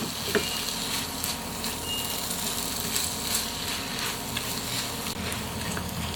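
Pork bopis with oyster sauce stirred in a pan, a fairly quiet steady sizzle with occasional light clicks and scrapes from stirring, no speech.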